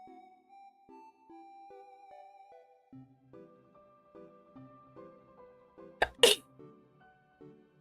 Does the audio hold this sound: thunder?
no